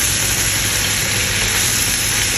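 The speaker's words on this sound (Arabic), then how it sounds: "هلا بوريكم الزبدة اللي عم بقليها فيه" Potato and chicken balls frying in butter give off a steady, loud sizzle that holds evenly throughout with no breaks or voices.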